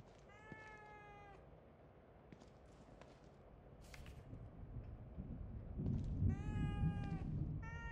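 Two bursts of a cat meowing inside the video game The Evil Within 2, one near the start and one near the end, over a low rumbling ambient drone that gradually grows louder.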